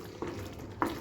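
Paneer butter masala curry stirred in a pan on the stove, a low steady sizzle with two soft scraping spoon strokes, alone and close.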